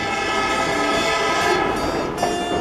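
A coastal Georgia train with an open-air car rumbles steadily along the rails, rocking back and forth, with a dense, continuous roar and a faint whistle-like tone, close and loud throughout.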